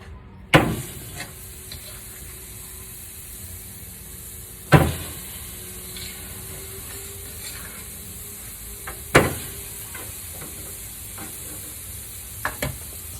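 Steak sizzling in a pan, a soft steady fry hiss punctuated by a few sharp knocks and clunks of handling at intervals, quiet and close with no talk.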